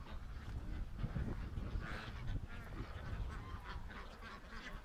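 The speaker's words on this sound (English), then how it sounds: "Ducks." A flock of ducks quacks and honks nearby in quick, overlapping calls, rising and falling in busy bursts across a quiet outdoor background.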